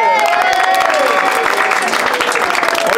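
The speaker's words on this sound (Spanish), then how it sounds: "Un aplauso." Crowd applause and some cheering at an outdoor street talent show in a Santiago neighborhood, loud and continuous, with a voice talking over it and music tones running underneath.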